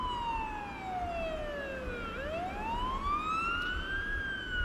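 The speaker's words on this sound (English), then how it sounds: "Okay, we're going lights and sirens." An emergency vehicle siren in a paramedic role-play video game wails steadily, sweeping down then rising in long continuous tones over a low engine rumble, with no talk.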